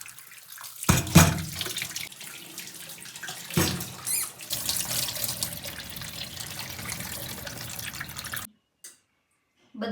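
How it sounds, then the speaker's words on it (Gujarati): Potatoes are washed under a running kitchen tap, with water splashing and gushing into a sink for about eight seconds, sharp splashes near the start, before stopping abruptly. "બટેટાને સારી રીતે ધોઈ લેશું."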